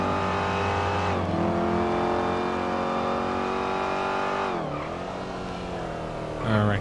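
Jeep speeding away in GTA 5 on a highway, a steady engine drone with strong harmonics that shifts in pitch as it pulls off, continuous and fairly loud.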